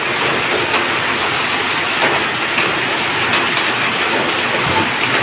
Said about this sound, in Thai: ฝนตกนะคะวันนี้ฝนตกจ้ะ